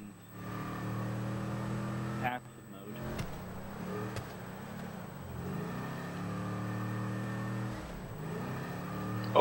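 Car driving in GTA V, a steady engine drone with shifting revs, loud and continuous, heard under talking voices and game noise.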